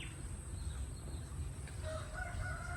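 A chicken calls faintly in the distance over steady low rumbling background noise, brief clucking tones near the end, no speech.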